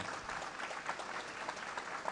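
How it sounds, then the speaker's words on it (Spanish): Applause from an audience at a political speech in a Formosa neighborhood, a steady patter of clapping held at a moderate level throughout with a few louder claps rising above it. "Para él un caluroso aplauso."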